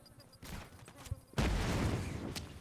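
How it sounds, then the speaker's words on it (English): A grenade goes off in the Just Cause 3 video game, a sudden loud blast with a sustained rumbling tail, preceded by faint buzzing and followed by a sharp crack. "Oh, that's a grenade."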